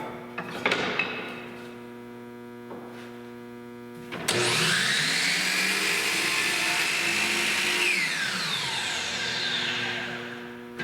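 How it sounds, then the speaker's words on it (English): A woodworking saw, probably a table saw, cutting boards for a nightstand face frame, runs loudly with a steady whine, then its pitch sinks as the blade winds down toward a stop. "Wait for the saw to come to a stop."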